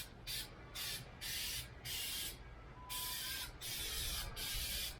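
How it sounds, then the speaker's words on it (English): Short bursts of clear coat sprayed onto Raptor tow hooks, about six evenly spaced hissing passes, each roughly half a second long, close and isolated against quiet background. "I'm going to go ahead and shoot a couple coats of clear"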